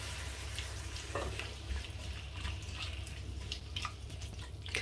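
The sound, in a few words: shrimp sautéing in oil in a pan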